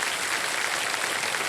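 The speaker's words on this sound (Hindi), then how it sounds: "तालियां बजती रहें इनके लिए" A studio audience on the TV quiz show KBC keeps up steady, fairly faint applause without any break.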